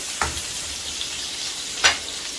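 Vegetables stir-fry in a hot pan for a Schezwan chicken dish, a constant close sizzle broken by two brief, sharp scrapes of a spatula against the metal.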